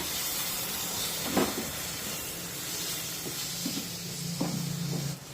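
Chopped tomato sautéing with spices in a pan, a continuous soft hiss and sizzle close by, broken by a few brief stirring knocks and scrapes, with no voices.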